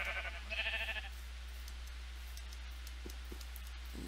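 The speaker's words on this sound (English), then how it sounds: "More sheep." Sheep in Minecraft giving one short bleat near the start, followed by a few faint taps over a low steady hum.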